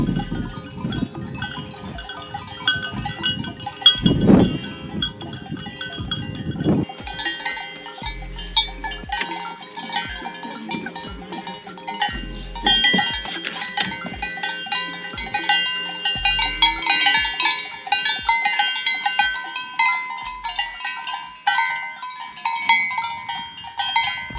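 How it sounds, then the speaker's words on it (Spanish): Cowbells on grazing livestock in the rural mountains of Baja California Sur, Mexico, clank and jingle irregularly, some near and some farther off, with occasional bleats mixed in over a quiet outdoor background. "vamos a escuchar por última vez un cencerro y no lo vamos a saber"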